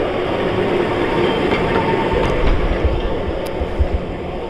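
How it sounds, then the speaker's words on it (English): Heritage trams run at the Beamish open air museum transport gala in County Durham, giving a steady close rumble of rail running with low wheel thumps and faint squeals building toward the end, with no voices. "they've got the trams running on a full service"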